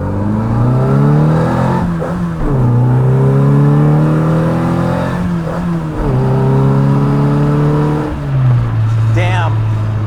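A 1968 Morris Mini Cooper S with a three-synchro gearbox pulls hard through the gears, its engine note rising in loud sweeps that drop at each shift near 2, 6 and 8 seconds, close and continuous.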